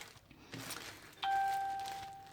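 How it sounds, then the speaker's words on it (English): A phone notification chime rings out indoors, a clear sustained ding that starts abruptly and slowly decays, heard after some soft rustling of packing. "That's my phone. It's a notification,"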